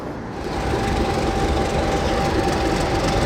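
A passenger train hauled by diesel locomotives Di 1102 and Dg 772 departs close by in Christchurch, a loud steady roar of wheels on rails with rhythmic clattering that swells in after a moment.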